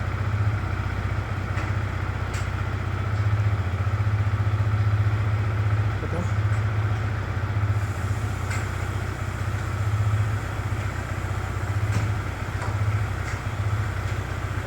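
Yamaha R15 V4 motorcycle idling after an electric self start, a steady low engine hum running evenly throughout with a voice speaking over it.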